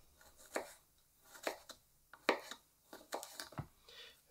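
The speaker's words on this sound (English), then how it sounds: "basically what I do then is chop it up into little pieces" A knife chops ginger into small pieces on a board: about eight separate, crisp strikes in an uneven rhythm, close but fairly quiet, with no voices.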